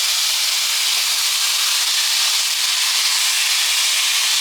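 A buffalo steak sears in a hot pan, giving a steady, loud, even hiss that holds unbroken from start to finish with no talking.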